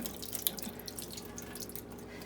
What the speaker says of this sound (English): all you have to do now is drain the water out